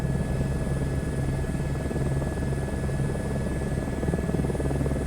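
An Airbus helicopter lifts off from a helipad in Microsoft Flight Sim 2024, its steady rotor thump and turbine whine holding loud and even throughout, with no talking.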